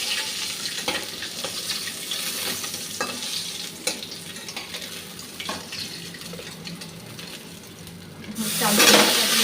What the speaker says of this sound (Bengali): চাল কুমড়োটা দিয়ে দিচ্ছি।